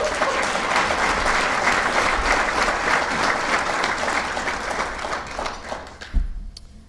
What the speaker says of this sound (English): So if everybody could give a round of applause for their representative,